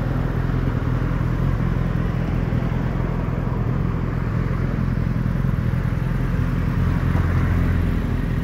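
A car rumbles along at night near a bridge over a city river in Australia, a steady, loud engine-and-road drone that holds evenly throughout with no voices.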